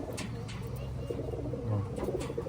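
Pigeons from Taiwan coo softly in a low, repeated throaty murmur, with faint chirps and background rustling from a nearby enclosure.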